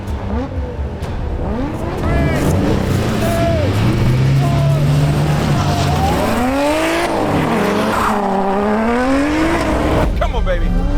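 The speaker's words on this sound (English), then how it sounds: "What we got here is a quarter-mile drag strip, and I'm in a Quattro twin-turbo Audi," A twin-turbo Audi Quattro launches down a quarter-mile drag strip, its engine note climbing through rising revs and gear changes, loud and close, with tire noise and some talk over the top.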